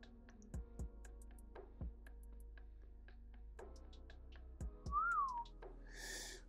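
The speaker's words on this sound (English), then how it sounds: "that was me whistling" While someone draws with pencil strokes and soft taps, a person whistles a short rising and falling note near the end against a quiet room, with sparse ticks and scratches scattered throughout.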